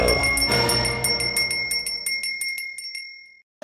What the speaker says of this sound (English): I was ringing the bell and the bell fell out